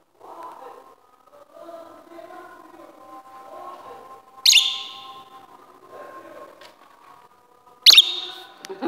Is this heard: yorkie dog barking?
no